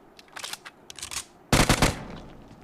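UMP submachine gun firing in PUBG Mobile, two short bursts of rapid automatic gunfire, the second louder and punchier, with a brief decaying tail.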